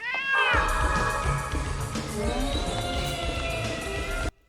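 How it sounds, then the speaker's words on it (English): A cat in the TV series Tales from the Darkside lets out loud, drawn-out meows and caterwauling yowls, close and shrill, mixed with other show sounds, before cutting off abruptly. "what kind of super kitty is this?"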